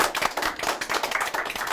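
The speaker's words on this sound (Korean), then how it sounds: "박수 부탁드리겠습니다" A studio audience claps to welcome a guest CEO onto a talk show stage, steady dense applause throughout at moderate level.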